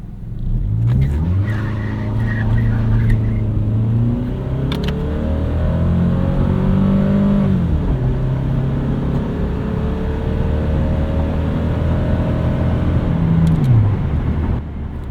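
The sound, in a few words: 4th gen Toyota Camry spinning tires on wet road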